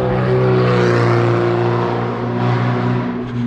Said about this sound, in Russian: говно автомобиля, который считает, что выхлоп это у него крутой